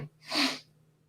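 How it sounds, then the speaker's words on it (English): A single sharp sneeze bursts out close by, a quick breathy explosion lasting under a second, with quiet afterward. "I guess the spices are going up my nasal passages, triggering sneezes."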